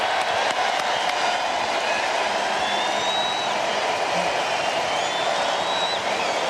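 Stadium crowd applauding and cheering Alejandro Kirk of the Blue Jays after his two home runs in an MLB playoff game, a steady dense roar of clapping with faint whistles and whoops throughout.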